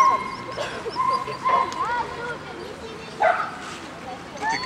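A small dog gives short, high yips and whimpery barks during running and jumping, close by, over steady background noise, with people talking nearby.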